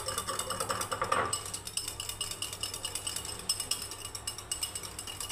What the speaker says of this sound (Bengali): তো প্রথমে আমি দইটাকে দেখুন বন্ধুরা ফেটিয়ে নিচ্ছি ভালোভাবে।